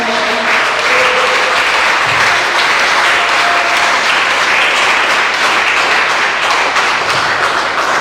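Church congregation applauding during a Sunday worship service, steady sustained clapping from many hands filling the room, loud and continuous throughout with no talk over it.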